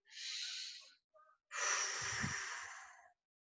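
A person breathing in and out, a long airy breath, a brief catch, then a longer, fuller exhale with some low chesty rumble, close and alone.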